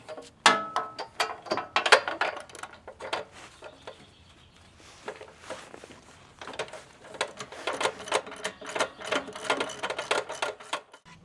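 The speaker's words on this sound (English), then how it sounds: "I'm going to pull the spark plug wire off and I'm going to take that plug there out" A spark plug is wrenched out of a Gravely mower engine, giving rapid close ratchet clicks in bursts, a quieter pause in the middle, then more busy ratcheting and metallic ticking.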